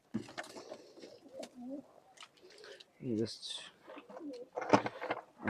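Pigeons of an old rare bloodline in Khulna coo in their loft, with soft intermittent coos and bird calls between rustles while someone speaks briefly nearby.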